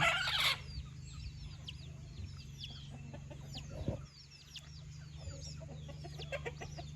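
Hens cluck and chicks peep in scattered bursts over a low background hum, with a brief louder squawk near the start; quiet, close-range farmyard sounds.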